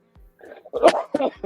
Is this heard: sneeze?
yes